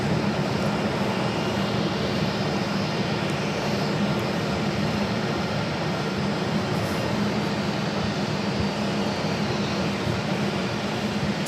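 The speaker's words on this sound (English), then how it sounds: "A320 coming in from Santa Ana." An Airbus A320 airliner arriving from Santa Ana at Phoenix Sky Harbor makes a constant jet engine roar, moderately loud and steady from start to finish, heard alone without voices.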